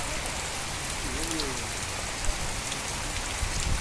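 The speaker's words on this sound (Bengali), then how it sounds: "এত জোরে বৃষ্টি হচ্ছে" Heavy rain pours down in a constant, loud, close hiss of drops hitting surfaces, with a faint voice briefly audible beneath the downpour.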